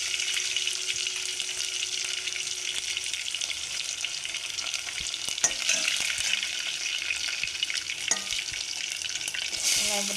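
Onions sizzling in hot oil with curry leaves and garlic for a Tamil prawn curry, a steady close frying hiss with occasional clinks of a spoon, no voices.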